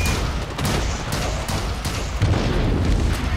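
A grenade blast in the first-person shooter Blacklight: Retribution amid a dense barrage of gunfire and booming impacts, loud and continuous through the whole stretch.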